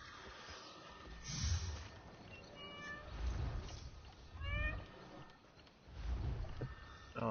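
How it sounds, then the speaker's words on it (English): A pet cat meows several times in a row, short rising calls spaced a second or two apart, fairly close and quiet over a soft background rumble. "That's my cat."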